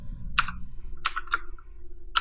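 A password being typed on a computer keyboard, with a few sharp, separate key clicks spaced irregularly in an otherwise quiet room.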